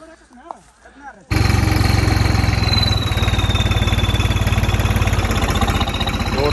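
Two tractors hauling a heavily loaded sugarcane trolley sit idling. After a brief faint voice, the engines cut in abruptly at close range with a loud, steady diesel chug that continues to the end.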